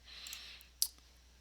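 A single sharp mouse click sounds, quiet and close, in an otherwise hushed room.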